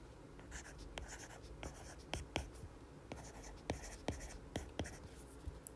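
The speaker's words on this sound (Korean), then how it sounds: "선생님은 이렇게 한번 써볼게요." A teacher writes by hand on paper, giving a close, quiet series of irregular pen scratches and taps that come in short strokes and small bursts, with no talking.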